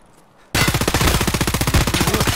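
Sustained fully automatic P90 fire in Escape From Tarkov, a loud rapid string of about twenty evenly spaced shots after a half second of quiet.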